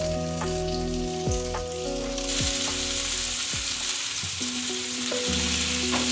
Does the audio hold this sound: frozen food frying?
yes